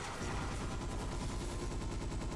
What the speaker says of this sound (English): You're mostly gonna want to use the grenade launcher to hit the sentries.